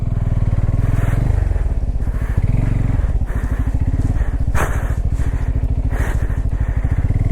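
A Bajaj Pulsar N250 motorcycle rides off-road through deep mud in first gear, its engine thumping loud and close with a steady pulsing rumble and occasional spikes of clatter and revving.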